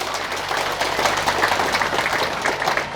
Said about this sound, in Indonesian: Tepuk tangan untuk Pak Daniel.